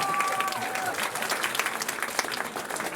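A powwow audience applauds steadily, dense clapping filling the space, with a brief voice or whistle heard at the start.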